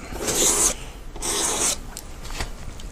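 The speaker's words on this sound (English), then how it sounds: "and that's all I'm doing, just scraping it off." Glycerin is scraped off a grayscale painting in two long, harsh rasping strokes, loud and close, with a quieter scratchy scrape trailing after; no voices.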